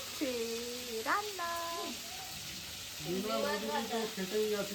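Meat frying and being stirred in a pan gives a steady, faint sizzling hiss underneath, while voices talk nearby over most of the sound.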